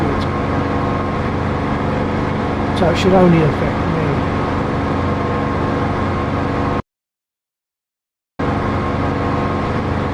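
An aircraft engine in the DCS flight simulator video game hums as a steady, loud drone, with someone talking briefly over it; the sound cuts out completely for about a second and a half, then resumes.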